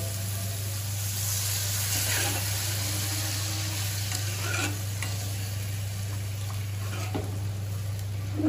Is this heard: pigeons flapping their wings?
no